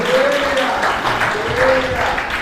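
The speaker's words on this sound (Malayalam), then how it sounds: "കൈയടിച്ച് കർത്താവിന് നന്ദി പറയാം" A congregation at a prayer retreat claps their hands in thanks, a sustained burst of crowd applause with a voice speaking or calling out over it.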